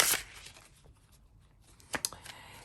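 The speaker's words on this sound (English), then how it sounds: "let's do another shuffle" Tarot cards being shuffled by hand: quick riffling and sliding rustles in short bursts, close and soft, with pauses between them.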